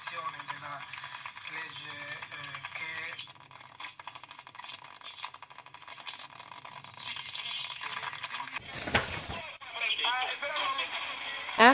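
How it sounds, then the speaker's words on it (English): A 1959-1962 Minerva Milano 596/2 tube radio plays FM stations, music and voices coming through, a crackly burst of static partway, then more broadcast sound with faint interference. "After replacing the vacuum tube in the FM tuning module, some stations can be heard"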